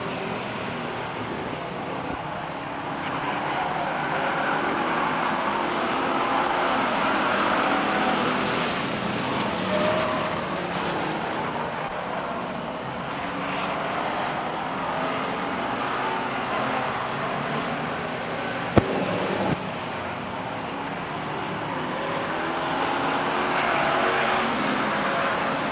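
Race cars roar continuously around the Stockton 99 Speedway oval, a steady, dense engine drone from several cars in a pack with a sharp click partway through.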